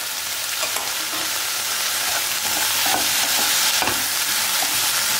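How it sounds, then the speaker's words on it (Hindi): Capsicum and mushrooms sautéing in a pan: a continuous bright sizzle and crackle, with soft scraping stirs now and then, close up and with no talking. "इसको भी थोड़ा सा सॉटे करेंगे इससे"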